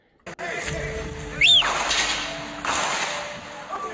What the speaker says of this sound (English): That was the sound of gunshots echoing through the streets